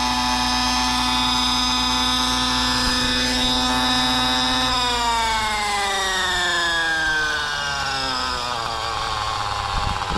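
Align Trex 600 RC helicopter motor running in a tuning flight, a loud steady whine with layered harmonic tones that drop and shift in pitch partway through as the speed changes, continuous and alone.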